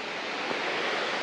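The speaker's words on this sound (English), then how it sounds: "We're here at Helton Creek Falls." Helton Creek Falls, a waterfall on the Appalachian Trail, gives a steady broadband rush of falling water, constant and fairly close with no voices.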